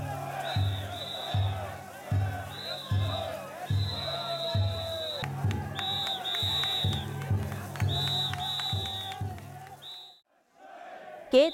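At the Takahama Shichinen festival, a large crowd in a Japanese shrine precinct cheers and shouts as men hoist and carry a portable mikoshi shrine. Rhythmic chanting and pulsing beats run beneath recurring high whistle tones, with a brief lull near the end.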